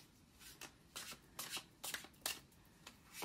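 Tarot cards being shuffled close by, a rapid series of soft riffling flutters and papery slaps in short bursts, fairly quiet.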